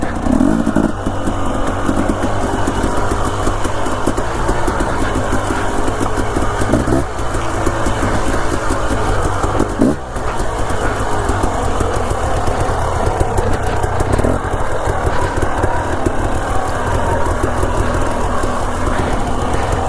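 Dirtbike engine fitted with a spark arrestor silencer, running loud and close in a continuous rough drone with small surges throughout.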